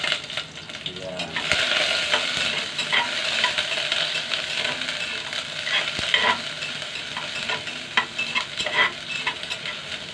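Onions fry in a pan with a continuous hiss and sizzle while being stirred, with scraping strokes and occasional clinks, close and steady with no talking.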